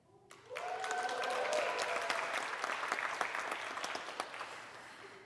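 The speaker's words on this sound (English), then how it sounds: "let's applaud ourselves for the unforgettable 18 months as we shared" A graduating executive MBA class applauds at a recognition ceremony, with clapping swelling quickly after a brief tone, holding steady, and then slowly fading.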